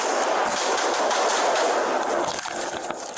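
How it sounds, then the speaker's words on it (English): A dense, rapid rattle of gunfire sounds continuously at fairly high volume, the bursts merging into a sustained crackling roar. "Then you can hear a blast of gunfire."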